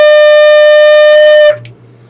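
A beginner's flute plays a single sustained D, a clear steady pure tone held for about a second and a half that then stops abruptly, close and loud, no speech.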